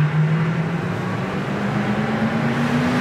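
A 1967 Ford Mustang coupe with a 289 two-barrel V8 running on the road, a steady loud engine drone with rising pitch from interior road noise, no talk.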